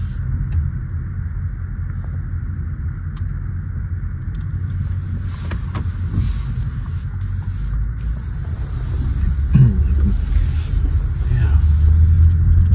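A BMW 850 M with xDrive on winter tyres warms up and pulls away, its engine a low, steady rumble that swells toward the end beneath people chatting inside the car.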